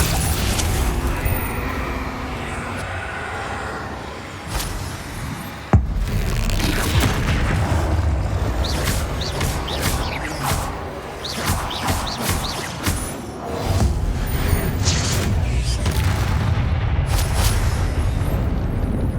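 Blasting-spell explosions and combat effects in the Hogwarts Legacy video game: repeated booms and crashes over a continuous dense rumble, with one sharp hit standing out, loud and layered throughout.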